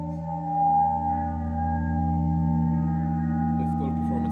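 Two hanging gongs feed back into a sustained, layered metallic drone of steady ringing tones, swelling slightly early on and holding at a moderate level, with faint scattered higher sounds near the end.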